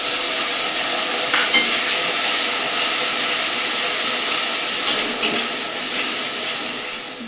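Ground mustard, garlic and green chili paste frying with onions in a pan, giving a steady loud sizzle with a couple of sharp spatters and stirring scrapes, no voices.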